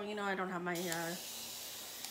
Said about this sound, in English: So you're just going to spray with water.